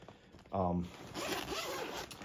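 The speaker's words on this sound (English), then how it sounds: "It's usually easier to get in and zip it up." A zipper is pulled closed on an inflatable pool toy suit in one quick, loud rasping zip near the start, followed by someone talking.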